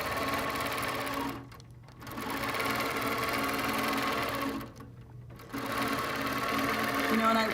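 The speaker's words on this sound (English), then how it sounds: "a lot of times I will stop my machine to re-navigate the rulers" A sewing machine stitches continuously during ruler quilting, a close steady mechanical hum that stops twice for brief pauses before resuming.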